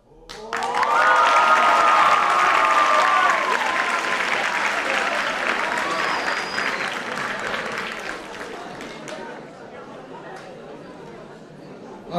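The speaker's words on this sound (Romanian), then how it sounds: "Aplauze, excepțional moment." Audience applause at a high school freshman ball after a card trick, loud sustained clapping mixed with crowd chatter that gradually fades, with a voice speaking over the start.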